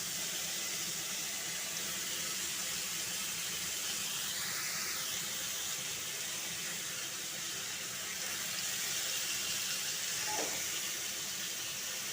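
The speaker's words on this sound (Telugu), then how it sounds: "ఇప్పుడు మనం ఈ టమాటా ముక్కల్ని మనము ఆయిల్లో వేయించుకోవాలి" Tomato pieces fry in hot oil for a Telugu green chilli and tomato chutney, giving off a steady, close sizzling hiss that barely changes, with no talking over it.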